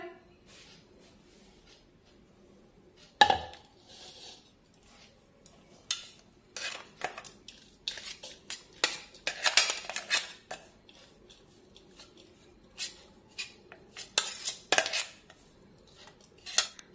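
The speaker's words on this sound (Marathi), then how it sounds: "आता या शेंगदाण्याची पावडर किंवा शेंगदाण्याचा कूट आपण एका बाउलमध्ये काढून घेऊया।" A spoon scooping ground peanut powder into a bowl while making sesame ladoos, with scattered sharp clinks and scrapes of metal on the bowl in an otherwise quiet kitchen.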